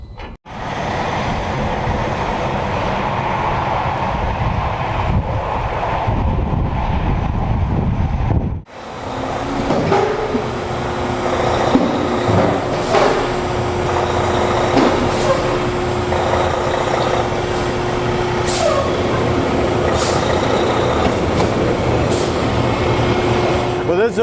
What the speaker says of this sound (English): This is a brake force machine.